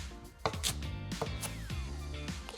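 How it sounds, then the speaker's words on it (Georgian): Knife chopping coarsely through fresh herbs such as parsley, green pepper and green onion on a cutting board, with several close, irregular chops and thuds over steady background music. "ეხლა ვჭრით უხეშად"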